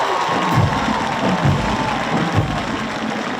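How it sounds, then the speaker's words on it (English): A football-stadium crowd roars and cheers with scattered applause, a broad, sustained wash of voices and shouts swelling in waves from the stands. "Longview, please give our Tiger Red of Big East Texas roar of applause."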